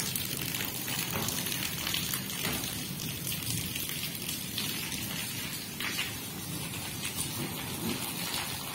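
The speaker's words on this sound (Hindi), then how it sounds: "रात में बहुत तेज बारिश हुई है" Steady heavy rain pours down, a dense hiss of drops with occasional louder splashes, unbroken and without any voices.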